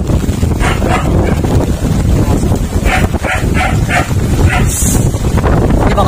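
A dog barks repeatedly outdoors, several sharp barks in a rough rhythm, close and loud over heavy wind buffeting the microphone, with people talking in the background.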